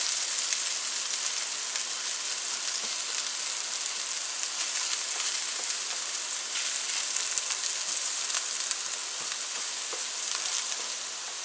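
Onions fry in butter with a constant, crackling sizzle and small pops scattered through it, fairly loud and close, steady for the whole stretch with no voices.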